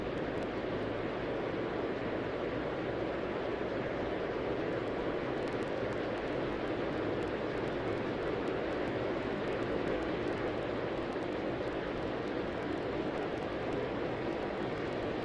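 Steady broadband roar of jet aircraft engines taxiing at Atlanta airport in the Tower!3D Pro air traffic control game, a constant even drone lasting throughout with no voices.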